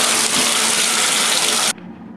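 A bathtub faucet runs cold water in a loud, steady gush, then cuts off abruptly near the end, leaving only a low residual hiss.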